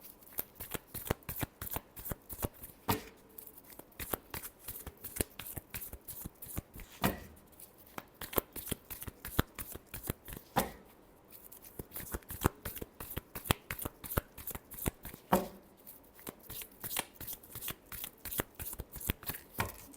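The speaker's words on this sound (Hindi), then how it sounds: "Last shuffle." Tarot cards are shuffled by hand in steady rapid riffles and slaps, close and crisp, continuing for the whole stretch with brief pauses.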